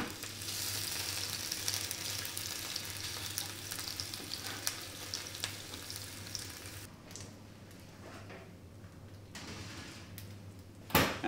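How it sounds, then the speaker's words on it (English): Meat roasts in a pan with a loud, dense, continuous sizzle that eases to a softer crackle partway through, ending with a sharp clatter; no one speaks. "now I'm going to roast our meat"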